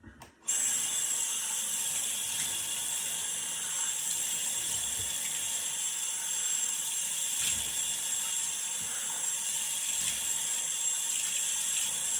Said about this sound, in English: get my face washed off